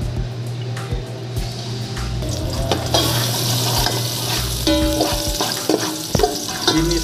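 Garlic sautéing in hot oil in a pan for a Filipino home-cooked papaya dish, with a steady close sizzle, scraping stirs and clinks throughout and no talking.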